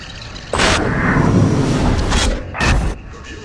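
A massive explosion in a city centre, heard in a news broadcast: a sharp, loud blast gives way to a heavy sustained rumble, then a second forceful boom follows, with no talk over it.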